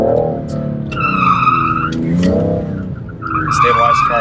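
A BMW M car drifts on a track at a club day, with loud tires squealing in long, wavering tonal screeches over engine roar, easing off briefly and then returning; an instructor speaks over it.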